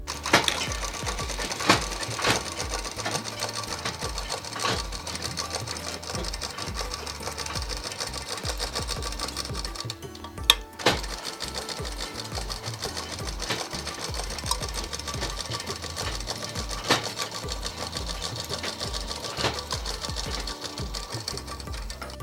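A sewing machine double-stitching the folded hem of a double-gathered frock runs in a steady, rapid mechanical chatter. It pauses briefly midway with a few sharp clicks, then resumes, and no one speaks.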